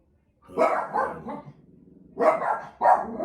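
A dog barks in two short bursts, a few sharp woofs at a time, fairly close and clear, with a brief pause between.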